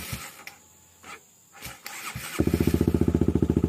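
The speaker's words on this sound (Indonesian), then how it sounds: "ini dia sepeda motornya" A Honda CBR150R motorcycle converted from fuel injection to a carburetor is cranked over with several tries and clicks before the engine fires into a loud, rapid, close-up idle pulse.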